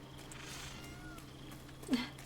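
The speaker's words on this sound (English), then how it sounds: "Kitty!" A cat gives a single short meow near the end of a quiet indoor stretch, faint and close, with a low steady hum in the background.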